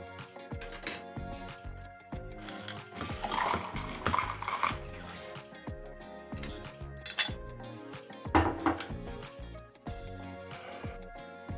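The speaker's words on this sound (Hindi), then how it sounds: "थोड़ी सी हम इसमें आइस डालेंगे" Ice cubes clinking and rattling into a container of cold coffee made with sugar and cocoa powder, a series of close, bright knocks and clatters with no talking.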